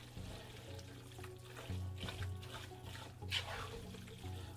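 Liquid is poured and trickles into a pot of shredded chicken taco meat, a faint splashing and dribbling in short bursts at close range, quiet overall with light background noise.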